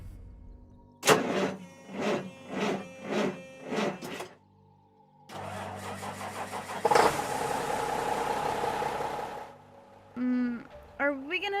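A car engine in the Minecraft roleplay game is hotwired, with several rhythmic cranking pulses, then catching and running loudly as a steady engine roar before cutting off, followed by a brief voice.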